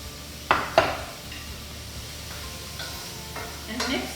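A spoon stirs salt and pepper into hamburger soup in a pot, giving a couple of sharp clacks against the pot early on, then soft scraping and a low sizzle under a quiet background.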